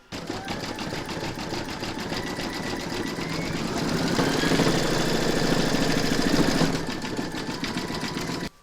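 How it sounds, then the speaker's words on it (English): An embroidery sewing machine zigzag-stitches over raw fabric edges in the hoop while making a stacked snowman, a steady fast mechanical whir and rapid needle chatter running continuously and growing slightly louder midway, with no talk. "you're now going to stitch round number 9, and that's going to zigzag all the raw edges"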